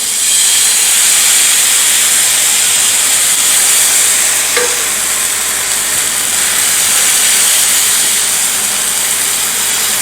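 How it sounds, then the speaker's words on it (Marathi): A loud, continuous hissing sizzle of onion dosa batter poured onto a hot griddle, steady throughout with no talking. "तवा आपला छान गरम झाला आहे आता याच्यावरती आपण हे बॅटर घालवूया"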